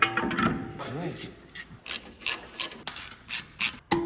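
Ratchet clicking in short bursts while a new wheel is fitted back onto a wrecked Lamborghini, about eight quick ratcheting strokes following some muffled handling noise at the start.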